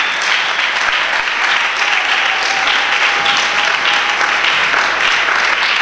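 A church congregation applauding during worship, with dense, sustained clapping that runs unbroken from start to finish at a steady, close level.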